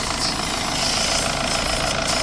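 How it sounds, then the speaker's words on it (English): An air compressor runs steadily beside a Toyota Avensis diesel during particulate filter cleaning, giving a constant loud, buzzing mechanical drone with a faint rhythmic pulse and no talking. "Compressor is running. So now we're going to get some steam come out of the exhaust."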